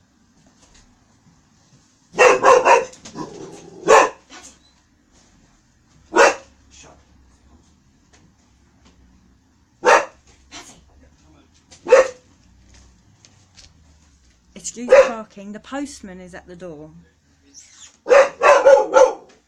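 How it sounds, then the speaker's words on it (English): A young dog, about 18 months old, barks in sharp bursts at the postman at the front door, a few loud separated volleys with pauses, and a person talks between them. "Yes, we have a dog."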